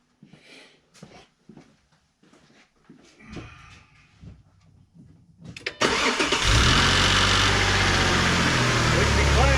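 2007 Jeep Grand Cherokee 3.7L engine after an injector installation: a few quiet clicks and rustles, then the starter cranks briefly and the engine catches, settling into a loud, steady idle up close.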